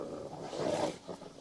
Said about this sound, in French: Ces loups sont très agressifs. Ils grondent et ils grognent.